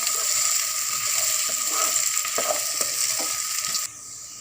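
Three medium bananas, chopped small, are stirred in a hot pan, giving a steady frying sizzle with soft scraping strokes throughout, before the sizzle drops suddenly near the end.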